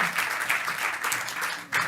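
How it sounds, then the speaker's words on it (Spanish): An audience at an awards ceremony honouring women applauds, a short, steady burst of clapping that swells again briefly at the end. "Vamos a pedir a estas mujeres homenajeadas el aplauso fuerte para ellas"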